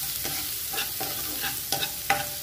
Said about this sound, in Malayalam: സവാള നല്ലതുപോലെ വഴന്നു വന്നിട്ടുണ്ട്